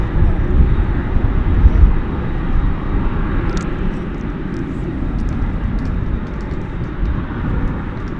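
A Delta airliner passes at DFW Airport with a loud, steady engine roar and broadband rumble that holds throughout, with faint wind or crackle on top.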